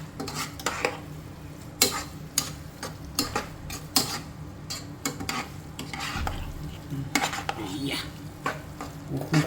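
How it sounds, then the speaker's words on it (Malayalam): Maggi noodles with egg are stirred in a pan, a utensil scraping and clinking against the metal in irregular bursts over a faint sizzle, close and fairly loud, with no talking. "ഇനി നമുക്കൊന്ന് ഇളക്കി കൊടുക്കാം."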